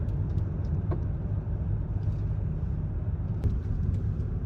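A car driving along back roads in West Virginia, a steady low engine and tire rumble heard from inside the cabin, continuous and even with faint light clicks.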